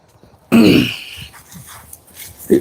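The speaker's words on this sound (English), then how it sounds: "It always clear my throat in the morning." A man clears his throat once, loudly and close, while out walking in the morning, a short harsh rasp followed by quieter breathy noises and a brief second grunt at the end.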